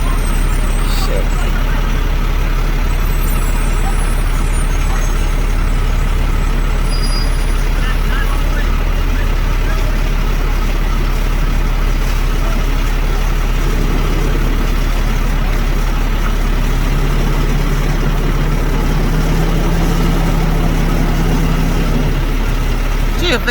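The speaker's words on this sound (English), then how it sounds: "This is the trash truck on fire and they are scrambling down here" Up close, a burning garbage truck's engine idles loud and steady with a heavy low rumble and faint air-brake hisses, while people talk over it throughout.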